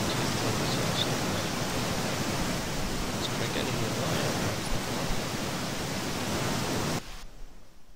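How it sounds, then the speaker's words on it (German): A waterfall in the game Strafkolonie Online pours as a steady, dense rushing roar that fills several seconds, then cuts off abruptly near the end. "Das ist anscheinend nur in einer ganz bestimmten Kameraposition so, dass hier der Wasserfall irgendwie an ist."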